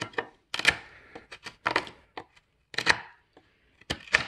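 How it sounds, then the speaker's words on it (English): Sharp, irregular chopping strikes of a 440C steel pocket knife blade biting into wood, close and loud, with brief pauses between bursts of cutting. "I'm really trying to cut into this wood with this 440C here"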